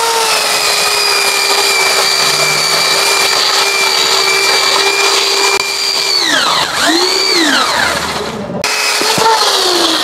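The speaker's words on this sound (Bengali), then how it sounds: "এখন আমি ইলেকট্রিকটা দিয়ে দেখাচ্ছি আপনাদের। দেখেন সেকেন্ডের ভিতরে আমি গাছটা কাটবো।" An electric chainsaw running loud and steady at close range, its whine dipping and wavering under load as it cuts through a six-inch tree, then cutting off abruptly before a brief restart.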